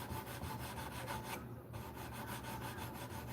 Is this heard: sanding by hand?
yes